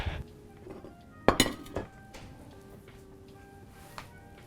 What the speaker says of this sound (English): I'm gonna cover this up and put that on our blender.